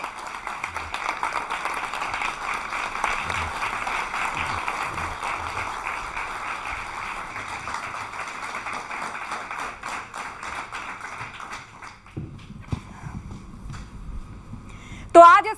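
Studio audience applause welcoming Karauli Sarkar at a televised interview: dense, sustained clapping from many hands for about twelve seconds, then dropping away to a few scattered sounds.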